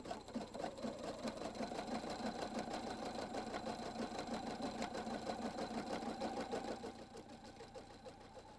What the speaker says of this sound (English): Your Husqvarna Viking Designer 2 embroiders up to 700 stitches per minute.